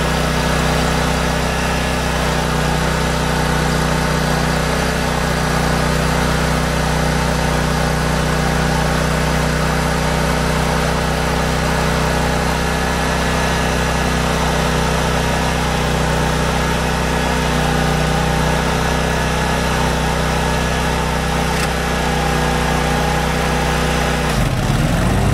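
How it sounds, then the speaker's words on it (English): A lawn mower engine runs steadily at a constant idle-like drone, loud and close, with a strong low hum and no talking, cutting off abruptly near the end. "Let's get mowing."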